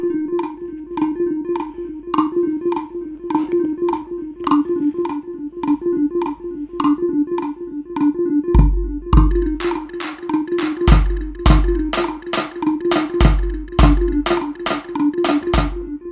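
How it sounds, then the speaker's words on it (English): Deep house bass in GarageBand for iOS over an afrobeat loop, a steady pulsing tone under rapid ticking percussion, with deep booming hits joining about halfway through. "There's this deep house bass."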